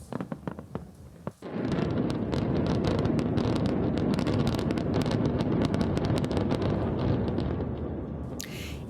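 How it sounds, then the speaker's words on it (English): Controlled demolition of the Tropicana casino in Las Vegas with a fireworks show, a sudden roar after a few crackling bursts, then a sustained loud rumbling barrage of crackles lasting many seconds. "It took just 22 seconds to bring down the Tropicana during a controlled demolition marked by a spectacular fireworks and drone show."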